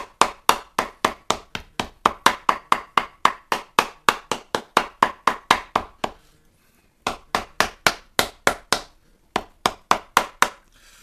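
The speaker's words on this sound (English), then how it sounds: "now I'm going to start hitting it with the shoemaking cobbler's hammer, French hammer" Rapid, evenly spaced French cobbler's hammer blows strike wet leather on a shoe last, a crisp tapping run that pauses briefly twice before the steady pounding resumes.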